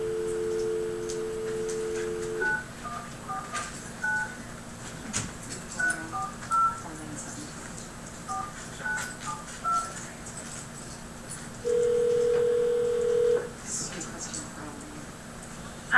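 A telephone keypad sends a series of short, evenly spaced dialing tones, followed by a long steady tone near the end, over low room hum and faint background sound.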